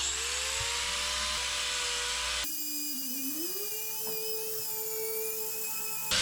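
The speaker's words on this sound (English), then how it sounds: "we're going to want to grind this flat at a straight Angle" Power grinder grinding a cow hoof flat, a steady high whine with strong harmonics that suddenly drops in load, then dips and settles to a lighter pitch, continuous and close.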